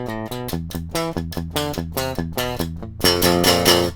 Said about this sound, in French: que je vous fais écouter le son brut de juste ma guitare qui rentre dans l'ordinateur